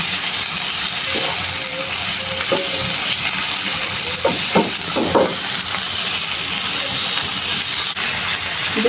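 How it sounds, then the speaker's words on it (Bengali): Marinated chicken fries in a pan on high heat, a steady loud sizzle with a few scraping stirs of a utensil now and then. "তাই এবার হাই হিটে এভাবেই ভাজতে হবে"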